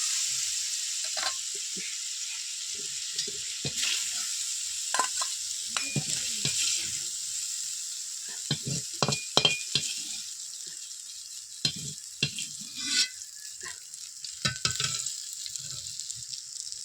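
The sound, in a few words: shrimp frying and being stirred in a pan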